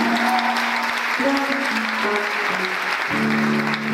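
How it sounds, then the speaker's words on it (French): A church congregation applauding in praise, a dense steady clapping that fills the whole moment, with sustained musical tones underneath and no clear speech. "Oh, acclame le Seigneur Jésus"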